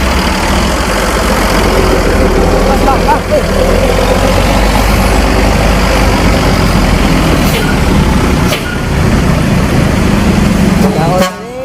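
A passenger bus heading out in Padang pulls past with a loud, steady heavy-diesel engine roar that stays close throughout, with a few brief hisses and clunks near the end that suggest the air brakes.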